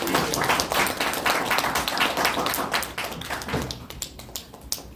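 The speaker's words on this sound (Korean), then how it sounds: "김진양 박사님께 힘찬 박수 보내드리겠습니다" A lecture audience gives loud, dense applause after a talk on the Kaesong Industrial Complex; the many-handed clapping holds strong, then thins into scattered claps near the end.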